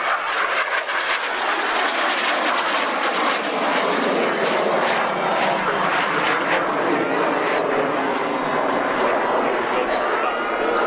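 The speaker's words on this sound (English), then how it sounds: "As we watch coming right back down our show line, the F-86 comes down the line" North American F-86 Sabre jet passing down the show line at an air show with smoke on, a broad continuous roar holding steady and loud throughout, with an announcer talking over it.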